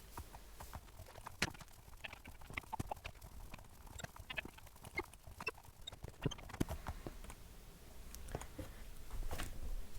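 A donkey's hooves clip-clop steadily in modded Minecraft, with a run of quick, light, irregular hoof taps close by that continues throughout over a faint background.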